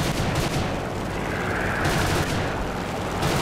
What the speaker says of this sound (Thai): กระสุนปืนแคนนอนค่อนข้างแรงนะครับ